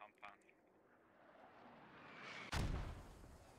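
Mortar fire in the military shooter game Squad: a sudden heavy, booming impact lands after a low rising rumble, preceded by a couple of faint sharp reports and nearby chatter.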